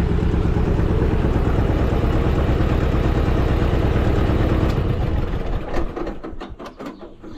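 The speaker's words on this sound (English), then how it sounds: "we'll go ahead and shut that noisy tractor off" A noisy Allis-Chalmers 5020 farm tractor engine runs with a loud, steady low chugging that shudders and dies away near the end as the engine is shut off.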